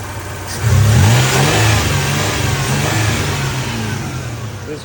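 A 2003 Toyota Tacoma pickup with a newly replaced radiator starts up, roars in a quick loud rev, and then settles into a steady mid-pitched running drone, recorded up close at the engine bay.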